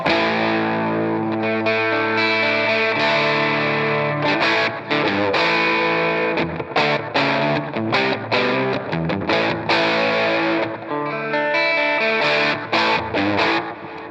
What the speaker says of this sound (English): if you take a Fuzz Face and you put the volume at like 9 and hit it